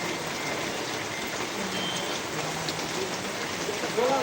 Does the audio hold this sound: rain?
yes